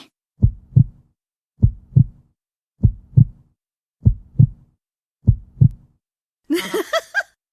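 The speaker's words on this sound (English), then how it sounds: "That heartbeat sounds good to me." Animated heartbeat heard through a stethoscope in the Doc McStuffins children's video game: five evenly spaced lub-dub double thumps, close and clear, followed by a short brighter chime-like game sound.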